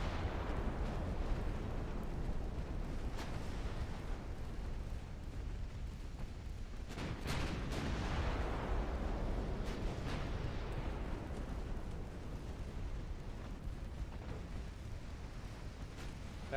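Torpedo detonations sinking ships in a naval warfare video game, a continuous low rumbling roar of distant explosions with a few sharper blasts rising out of the din, fairly quiet overall.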